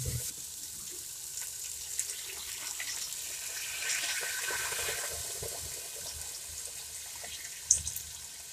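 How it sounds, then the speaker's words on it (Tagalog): Water pours steadily into a pot of soup with carrots in a home kitchen, a continuous splashing rush that runs alone for several seconds and ends with a brief clink. "Next, ilalagay natin ng tubig."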